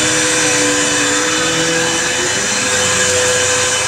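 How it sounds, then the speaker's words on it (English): A vacuum cleaner runs continuously at close range, a loud, steady roaring whine with no pauses and no voices. "Here you go, the vacuum."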